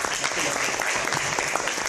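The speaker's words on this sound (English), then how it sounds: "let's give her a round of applause" An audience at a panel discussion claps in a sustained round of applause, dense and steady, with a voice faintly mixed underneath.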